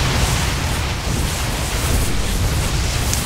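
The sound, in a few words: cannons being destroyed in the video game StarCraft II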